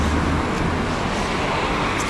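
Continuous road traffic with cars rolling past near a beach district in Alanya, Turkey, a loud, even rumble throughout with no talking.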